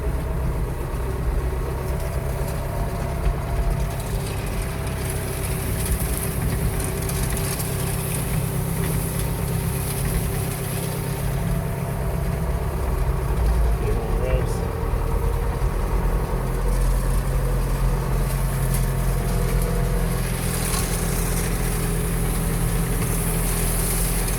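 Tractor engine running hard in 7th low while baling hay, a continuous rough droning hum with steady rhythmic chatter, moderately loud and unbroken throughout.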